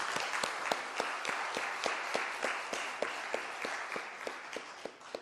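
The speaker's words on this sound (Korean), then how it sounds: "오늘 어린이 주일을 맞아서 한번 우리 박수로 한번 격려했으면 좋겠다" A church congregation applauds during a Sunday service for Children's Sunday, a steady wash of many hands clapping with sharper individual claps standing out at a fairly even pace throughout, moderately loud, with no talking.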